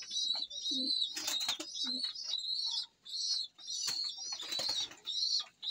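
Close pigeons cooing and warbling repeatedly with brief wing flutters and chirps between, steady and fairly loud, no talk.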